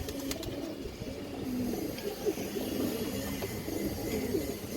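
Female pigeon cooing softly in a loft among other pigeons, with repeated low, rolling coos over a constant background murmur.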